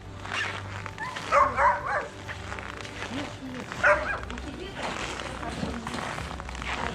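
Dogs at an animal shelter in Yakutia, including purebreds such as a husky, give a few scattered barks and yips amid a busy background while people talk over them.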